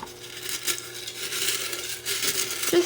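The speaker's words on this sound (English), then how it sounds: "what I also will do is just kind of crinkle them up" Homemade rat treats crinkle and crunch as they are broken up by hand, with a dense crackling that stays fairly close and even throughout.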